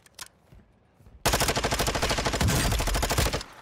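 Gunfire in a Call of Duty DMZ match: a few faint isolated shots, then a loud, close, sustained rapid-fire burst lasting over two seconds before it cuts off.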